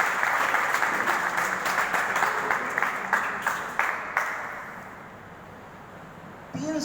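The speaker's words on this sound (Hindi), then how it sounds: "फिर ताली बजाइए मैडम के लिए।" An audience applauds a woman at a meeting: loud, dense clapping for about four seconds with a few sharper claps, then fading into a quiet murmur before a brief burst returns at the end.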